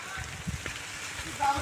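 Steady monsoon rain falls as a soft, continuous hiss, with a voice talking over it.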